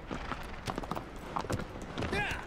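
Agro, the horse in the video game Shadow of the Colossus Remastered, galloping with steady clip-clopping hoofbeats at a close, even level, layered over game ambience and faint background sound.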